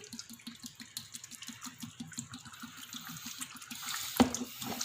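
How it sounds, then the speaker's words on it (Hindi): Mustard oil pouring into pickle masala for a homemade pickle, a soft steady liquid trickle with faint repeated drips, close and unaccompanied by talk. "अब हम इसमें तेल ऐड करते हैं। सरसों का तेल मैंने फ्रेश मंगवाया है।"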